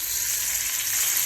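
Butter melting in a frying pan, with onion and garlic prepared for minced meat, gives a steady close sizzle and crackle with no voices.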